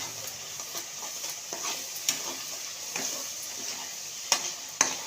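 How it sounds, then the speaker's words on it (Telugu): Masala fries in oil in a pan, sending up a steady, moderately loud sizzle with occasional sharper crackles and pops, with no voices. "చక్కగా ఆయిల్ తేలేంత వరకు బాగా దీన్ని ఫ్రై చేసుకోవాలి"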